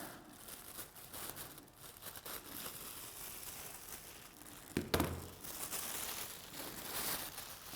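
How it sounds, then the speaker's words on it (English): Discarded material, likely a plastic or foil package, is cut open for a craft mushroom, with continuous crinkling and rustling close by and a sharp snip or tear partway through. "I'm going to cut this open."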